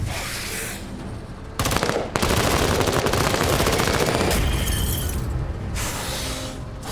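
Rapid gunfire while shooting at enemies in a video game, loud sustained bursts of automatic fire with crackling impacts, one brief pause between volleys, and no voices.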